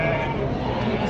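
A ram bleats once in a short, close, harmonic cry at a livestock market in Turkestan, with faint background murmur from the market crowd.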